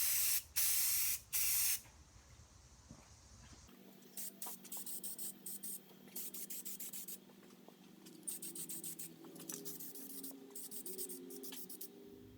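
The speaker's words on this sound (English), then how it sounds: "now I'm going to put some enamel paint on it." Enamel paint is sprayed onto a motor part from an Atlas 73 drill press: three short close hissing bursts, then a pause and a run of repeated shorter spray bursts with soft rubbing between them.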